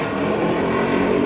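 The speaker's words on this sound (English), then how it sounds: "there's loud motorcycles, and once those pass" Loud, rumbling motorcycle engines pass close by in a continuous roar at Dealey Plaza in Dallas, with no talking.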